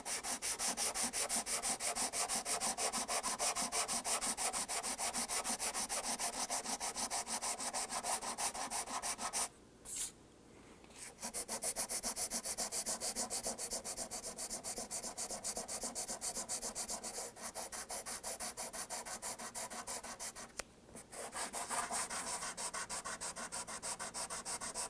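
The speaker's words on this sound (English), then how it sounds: "finish up the leveling with the corian block and the sandpaper" Steady rhythmic sandpaper rubbing on a Corian block leveling a guitar finish, close and continuous strokes with two brief pauses, no talk.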